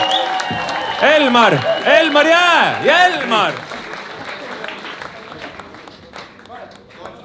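An audience applauds comedian Elmar Vesker at his stand-up debut: loud, dense clapping with voices calling out over it in the first few seconds, then the applause tapers off and fades.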